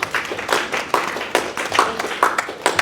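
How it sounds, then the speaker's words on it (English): Audience applause after a conference panel session, sparse irregular clapping at moderate volume, close and continuous for a few seconds. "The applause is for both papers."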